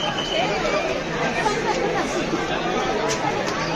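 Dense crowd of devotees at Lalbaugcha Raja, a steady wall of overlapping chatter and murmuring voices close around, continuous without pause.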